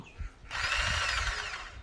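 A Makita 4329 jigsaw runs with a steady, close, whining motor drone that starts abruptly after a brief quiet moment and holds evenly to the end.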